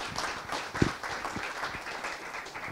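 Audience clapping at a talk, a moderate patter of hands from a smallish group, fairly even in level with one sharper clap partway through.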